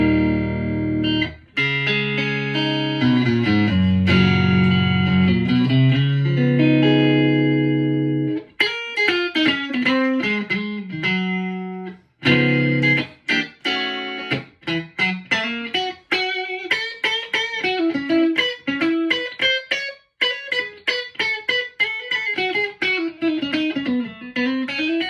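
A 1995 Mexican Fender Stratocaster played clean through a VT40X amp with reverb off: sustained chords at first, then a run of picked single notes and quick phrases, loud and close.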